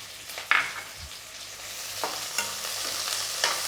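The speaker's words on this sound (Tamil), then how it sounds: "வெங்காயம் நல்லா வதங்கட்டும்." Sliced onions sautéing in a pan for coconut milk sodhi curry, a constant soft sizzle broken by a few sharp spatula scrapes and stirring knocks, with no voices.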